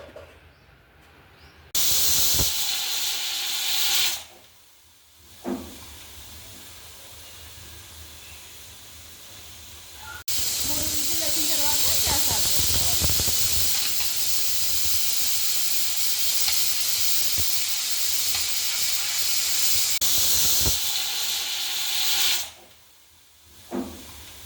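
A pressure cooker cooking bagara rice lets out long bursts of loud hissing steam, three separate releases with short quiet gaps between them, heard close with no talking.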